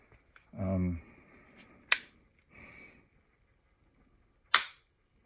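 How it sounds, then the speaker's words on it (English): A single-stage rifle trigger is dry-fired and reset, giving two sharp, crisp clicks a few seconds apart, close up and fairly faint, with someone talking briefly between them. "right now it's a single stage trigger, so it's great for 3-gun stuff, 2-gun stuff. Really quick reset"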